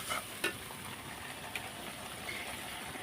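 Beef head meat dropped into hot spiced oil in a village kitchen, giving a continuous quiet sizzle with a few brief knocks near the start.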